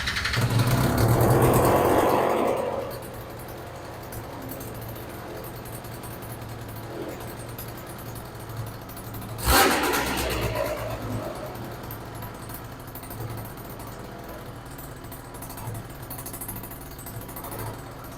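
A Yamaha BWS 100 scooter fitted with a Malossi 125cc big bore kit idles on first startup, its squashed, broken exhaust pipe leaking; a buzzy, uneven two-stroke putter runs throughout, with a sharp burst partway through.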